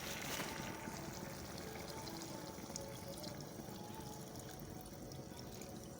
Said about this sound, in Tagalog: unang gata na lang ilalagay ko